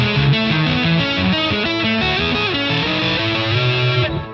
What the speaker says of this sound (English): instead of playing a mode one note after another, try doing it in sixths. So if I have an A Lydian,